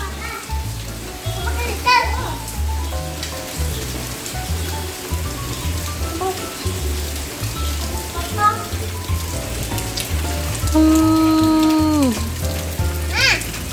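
Steady rain patters and hisses on surfaces while children shout and squeal as they play nearby.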